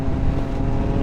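A Triumph Scrambler 1200 XE motorcycle on the move, with steady, loud low engine rumble and road noise throughout, close and continuous with no pauses.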